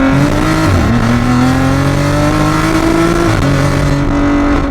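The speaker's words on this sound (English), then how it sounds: "The 4-inch downpipe continues into a full system exhaust that is valved for decibel control, but when it is open, it sounds absolutely wild." Modified BMW M340i with a 4-inch downpipe, a large turbo and a full valved exhaust, valves open, revving loudly up close with rising engine tones and a sharp dip between pulls.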